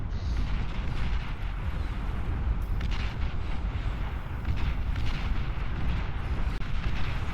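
Artillery fire from the strategy video game Beyond All Reason rumbles as a dense, continuous barrage of deep booms and bursts, loud and unbroken throughout, with no voices.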